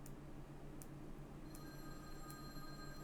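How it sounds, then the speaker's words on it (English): An electronic phone ringing in an empty school hallway in the visual novel Mahoyo: a quiet, steady tone comes in partway through over a low background hum, with faint ticks before it. "The sound of a phone ringing echoed through the empty hallways of the school."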